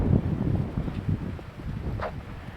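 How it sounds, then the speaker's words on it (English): Wind gusting across the deck of a 1978 Marine Trader 44 classic trawler, a rough low buffeting roar against the microphone that varies in strength throughout. "let me get inside because the wind is picking up"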